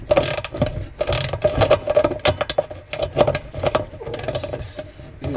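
A ratchet working stiff bolts loose on a 2006 Jeep TJ during radiator and A/C condenser removal, giving rapid irregular clicking bursts at close range, with no talking.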